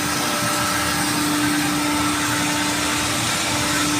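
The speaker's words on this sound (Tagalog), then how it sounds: "Ito yung motor nya guys." A steady, loud mechanical drone of a cooling tower's large motor running continuously, with a constant low hum and broad whooshing noise, no voices.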